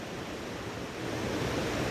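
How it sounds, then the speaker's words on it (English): Steady rushing water of Jogani Waterfall near Manali roars in a broad, constant wash, heard from nearby, with no other sounds. "Guys, finally we have got the waterfall"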